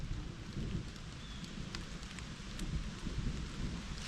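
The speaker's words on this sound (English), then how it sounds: "it looks like I'm not going to beat the rain." Steady rain beginning to fall outside an off-grid tiny cabin, a dense even hiss with scattered drop ticks and low rumbling, heard alone without talk.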